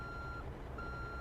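A reversing truck in a trucking video game sounds its backup alarm, two steady high beeps separated by a short gap over a low engine rumble, faint and without talk.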